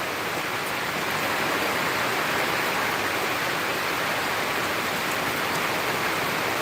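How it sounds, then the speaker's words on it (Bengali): Heavy rain pours down hard enough to beat through an umbrella, a loud, dense, unbroken hiss and roar that holds steady throughout with no voices. "এমন বৃষ্টি হচ্ছে ছাতাতেও আসলে আটকানো যাচ্ছে না এত পরিমাণ বৃষ্টি হচ্ছে"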